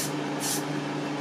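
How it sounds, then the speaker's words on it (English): Gatsby hair spray hisses in two short bursts onto a frontal's hairline, close and fairly soft over a steady background hum. "I'm going to spray the hairline"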